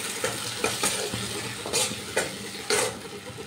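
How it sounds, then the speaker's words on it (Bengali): Spices and sour yogurt are sautéed over a low flame in a pan for a pumpkin dish, with a steady moderate sizzle and several rhythmic spatula scrapes and stirs close by. "এবার এই টক দইটা দিয়ে ভালো করে কষিয়ে নিতে হবে"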